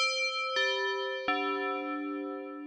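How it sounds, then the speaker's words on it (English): Tubular bells voice on a Yamaha Genos 2 keyboard: three clear struck chimes, each ringing on with long, overlapping sustain, heard alone and close. "Tubular bells."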